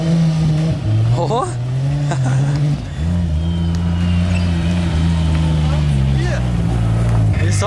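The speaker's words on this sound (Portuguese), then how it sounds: "Ele só driftando." Drift car engine holding a loud, steady high-rev drone with wavering pitch as the tyres spin, dipping briefly and rising again, with people's voices and shouts faintly mixed in.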